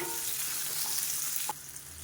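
Onion, garlic, ginger and green chilli sauté in a hot pan for a Chettinad egg curry, a steady close sizzle and crackle with a brief scrape of stirring partway through.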